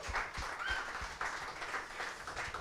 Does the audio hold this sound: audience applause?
yes